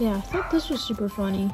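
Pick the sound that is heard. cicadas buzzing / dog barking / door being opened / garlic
dog barking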